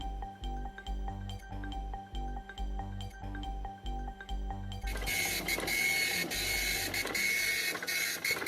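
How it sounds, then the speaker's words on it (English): A sewing machine stitches D-rings onto a fabric strap for a Scrabble board game case. Its needle chugs in a steady, evenly spaced rhythm, then shifts into a louder, denser whirring run. "I'm gonna stitch a couple of D-rings in"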